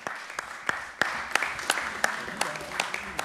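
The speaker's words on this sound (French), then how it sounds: "je vous propose qu'on applaudisse Fadila et Alexandre." Applause at a municipal council meeting in Corbeil-Essonnes, a few people clapping with sparse, uneven claps over a murmuring room, fairly close and moderate in loudness.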